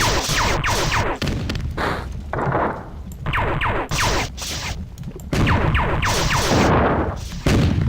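In the Marathon 2: Durandal video game, exploding Bob enemies blow up in a chaotic run of loud, booming blasts and gunfire-like bursts that carry on almost nonstop, with no voices.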